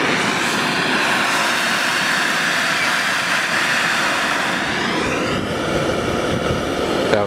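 A vehicle engine revs under boost, a steady loud roar held throughout with a rising pitch sweep near the end, close to the listener.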